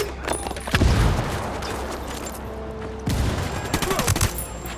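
Bursts of automatic gunfire in the video game Ghost Recon Wildlands, two loud clusters of rapid shots separated by a brief lull, with steady combat background noise between.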